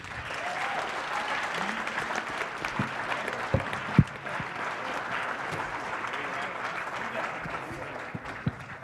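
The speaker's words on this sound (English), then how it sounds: "Please give a huge round of applause for our JV team." Steady applause from a crowd for a junior varsity team, a continuous wash of clapping with a few louder individual claps standing out, fairly close.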